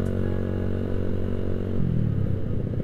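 A motorcycle fitted with a cheap aftermarket racing exhaust with a wide 5 cm outlet rumbles loudly and steadily, the engine note shifting partway through as it revs, with no talking.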